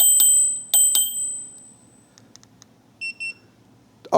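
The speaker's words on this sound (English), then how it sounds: "Here's your bell." The bell on an iScooter electric scooter rings with three sharp metallic dings, then a few quieter electronic beeps follow, close and clear in a quiet room.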